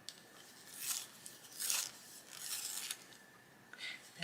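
A colouring pencil being sharpened, quiet close scraping strokes coming in several short uneven bursts with pauses between, alone without speech.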